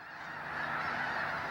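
A large flock of snow geese in the San Francisco Bay Area honks in a dense, continuous chorus of overlapping calls, steady and fairly close throughout.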